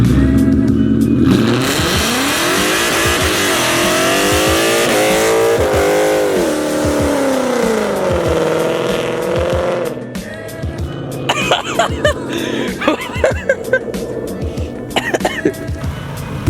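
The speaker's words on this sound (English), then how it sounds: "Alright, now let's go to the burnout." A car does a burnout, its engine revving hard and loud in a long rising and falling roar, then cutting back to a rough idle with crackling tire and exhaust noise.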